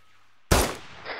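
After a brief quiet moment, one sharp, powerful video game gunshot bursts out and rings off with a decaying tail.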